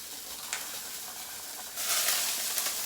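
Pork chops frying in a very hot pan give a steady, close sizzle that swells louder and brighter partway through, with a few sharp spits, and no talking.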